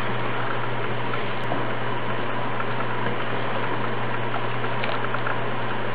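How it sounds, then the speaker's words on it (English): Almond milk bubbling as it cooks in a pot on the stove, a steady, faint simmering hiss with soft patter and no speech. "See how it's bubbling on top? Okay, so this is the almond milk cooking"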